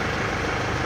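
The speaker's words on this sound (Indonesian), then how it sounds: "Ketika AC-nya hidup, mesinnya masih RPM-nya masih stabil tuh." A car engine idles at a steady, stable RPM with the air conditioning running, a continuous even hum held close and alone with no rise or fall.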